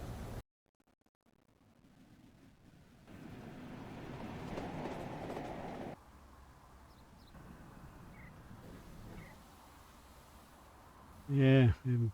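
Train coaches roll in Train Sim World 3 during coach shunting at Edge Hill, giving a low rumble that rises and falls with faint rail clatter, and someone talks briefly near the end.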